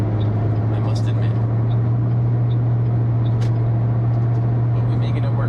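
A Ford car's cabin carries a constant low engine drone and road rumble while driving, steady and enveloping, with faint light rattles above it.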